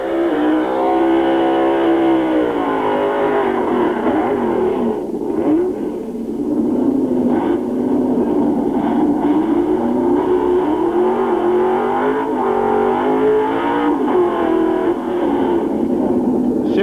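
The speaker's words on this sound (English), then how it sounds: "Super strong burnouts from both cars." Two drag racing cars, one an Opel Manta, do burnouts before the super modified final at Long Marston in 1986, engines roaring steadily and loudly with shifting revs throughout.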